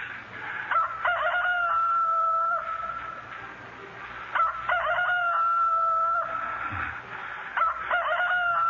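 A rooster crows loudly three times in succession, each call a long drawn-out cock-a-doodle-doo, with faint background noise between.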